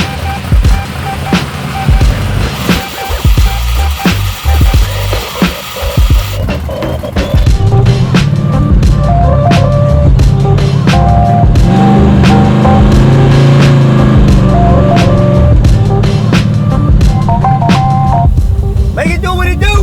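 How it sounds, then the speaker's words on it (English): A custom Chevy Chevelle wagon with nitrous, its engine idling and then revving hard and loud for several seconds, with people talking and shouting over it. "Yeah, this car sounds good. It sounds really good."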